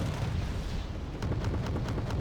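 Repeated pounding fire from APCs in Wargame Red Dragon, a dense run of booming shots and bursts over a continuous low rumble, with sharper cracks clustering in the second half.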